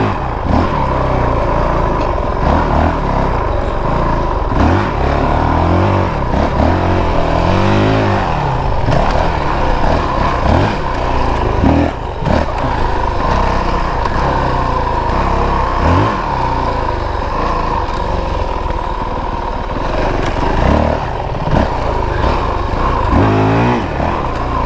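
A 2022 Honda CRF450RL dual sport motorcycle is ridden off-road, its engine droning loudly and continuously up close with frequent throttle swells and revs throughout.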